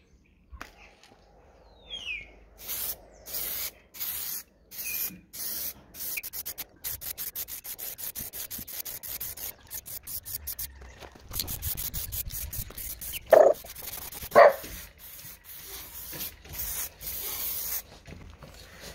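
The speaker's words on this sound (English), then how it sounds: "I'm finishing off with some quick drying clear lacquer." An aerosol can sprays quick drying clear lacquer over a carved wooden welcome sign in short repeated hissing bursts with brief pauses, close by, with a couple of sharper clicks near the end.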